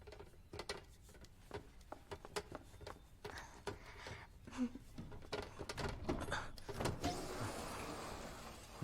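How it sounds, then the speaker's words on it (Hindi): A sticking household door is worked at, giving a run of irregular clunks, rattles and mechanical scrapes over several seconds, growing busier toward the end, with faint voices nearby. "डोर ठीक करना होगा, सही से खुल नहीं रहा है।"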